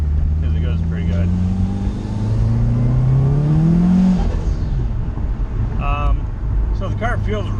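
A Subaru Legacy on a road test, its engine droning steadily and rising in pitch as it accelerates, with road and wind noise throughout and a voice talking briefly near the end.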